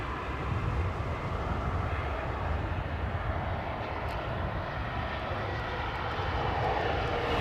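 Airliner at London Heathrow Airport, a steady broadband jet engine roar holding at an even level throughout, moderately distant with no voices over it.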